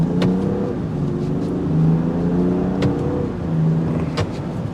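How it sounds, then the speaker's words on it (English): A 2024 Land Rover Defender 110 SE xDynamic engine idles with a steady, moderately loud drone and rises in a few brief revs, heard from inside the cabin with no talking. "I just wanted to give her a little gas."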